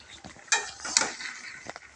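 Metal spoon scraping and clinking against a cooking pot while beef curry is stirred, a few sharp knocks among softer scrapes, close and fairly quiet.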